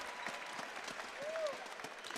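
A basketball crowd in a gym in Logan applauds and cheers steadily after a made free throw in a men's quarter-final, sustained and fairly distant, with a commentator talking over it.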